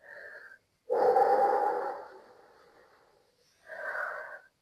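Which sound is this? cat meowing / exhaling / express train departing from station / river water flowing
exhaling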